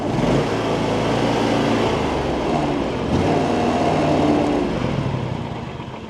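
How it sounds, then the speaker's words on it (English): A small engine idles at its lowest setting, a steady rough low rumble that holds close and continuous throughout, with no voices. "It doesn't idle all the way down. So this is the bottom idle it has"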